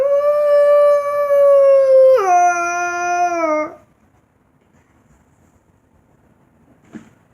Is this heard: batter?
no